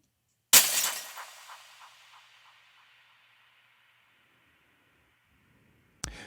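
A single glass shatter hits hard, its bright crash trailing off through a long reverb and rhythmic delay echoes that fade over several seconds, then a second sharp impact starts at the very end.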